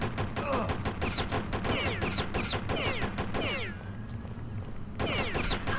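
Rapid bursts of gunfire from a shooting rampage in the video game Postal, dense repeated shots crackling loudly with a brief lull near the end before the firing resumes.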